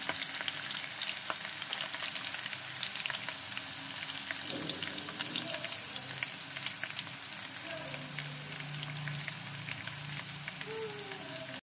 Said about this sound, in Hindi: तड़के के लिए प्याज को जो है वो गोल्डन ब्राउन तक कर लेंगे।